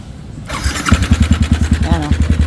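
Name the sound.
Yamaha Sniper 155 motorcycle engine starting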